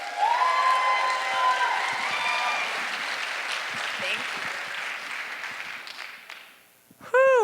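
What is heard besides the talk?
audience applause for a speaker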